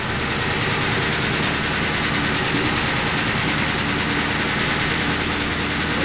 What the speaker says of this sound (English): sure sounds like a rod knocker